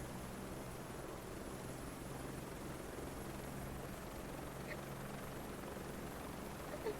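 Steady, quiet helicopter drone from a flight simulator video game, a continuous engine and rotor hum with a faint hiss running evenly throughout, no talk over it.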